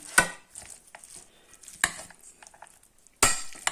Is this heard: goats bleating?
no